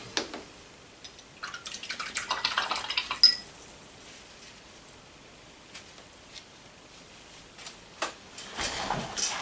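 Small clinks and drips of water from a brush rinse while painting a miniature in Death World Forest green, light scattered taps and a soft splash near the start and end, close and quiet.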